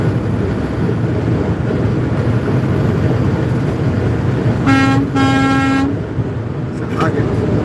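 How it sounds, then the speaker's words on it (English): A vehicle horn gives two short honks, the second slightly longer, loud and close over steady engine and road rumble. "I'll give you a little honk button real quick"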